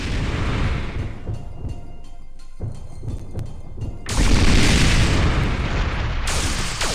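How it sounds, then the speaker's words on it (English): A MechWarrior rocket launcher fires in a Lithtech video game, with loud booming bursts and a sustained roaring wash of blast noise. "This fucking Mech Warrior rocket launcher"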